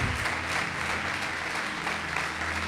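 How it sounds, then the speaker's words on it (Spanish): Applause from a church congregation at a sermon, steady dense clapping filling the space for a few seconds with no voices on top. "Den un aplauso."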